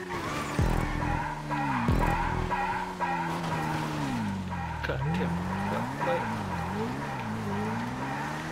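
Racing cars in a GTA Online race screech and skid through turns, with tire squeal over the whine of engine pitch rising and falling, loud and continuous.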